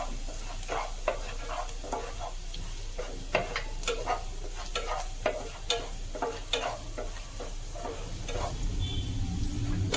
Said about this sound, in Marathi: मसाले भाजून झालेत आपले